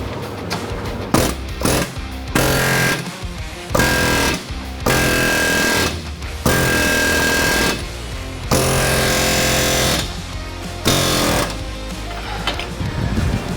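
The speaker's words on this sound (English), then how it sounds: "So this is my air hammer, and this is my ball joint persuader." Loud, rapid hammering of a pneumatic air hammer working a ball joint on a Mazda CX-7 lower control arm, in repeated bursts separated by brief pauses, harsh and metallic, very close.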